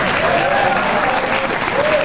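Studio audience clapping in a steady, dense wash of applause that fills the room, loud and continuous throughout, with some faint voices mixed beneath it.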